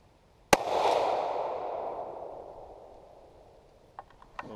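A custom 6.5x55 Swede rifle firing reloaded ammunition gives one loud, close crack that rolls away in a long echo, followed by a few faint mechanical clicks.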